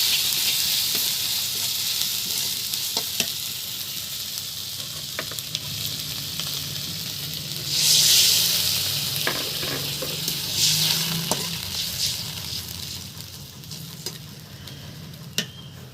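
Ginger, garlic, cumin and onion paste sizzles steadily in a pan, a broad hiss with a louder surge midway and scattered clicks of stirring, no voices.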